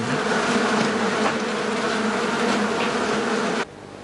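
Bees buzz steadily and loudly around trays of cakes waiting for a baker's oven on an old street in Blida, Algeria, a continuous close drone that drops off sharply near the end.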